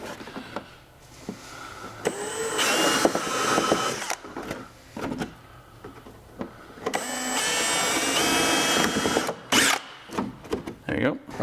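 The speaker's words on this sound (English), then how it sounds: "the world's dullest drill bit over here." An electric drill fitted with a very dull bit works into metal on a Honda Ridgeline lift kit install, running in two long whining bursts with short stops between, close by, with a few clicks and handling noises around them.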